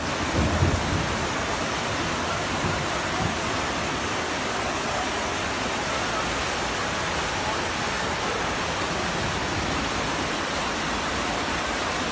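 Heavy rain pours down in a thunderstorm over flooded Istanbul streets, a dense, steady roar of rainfall with low rumbling filling the whole scene without a break.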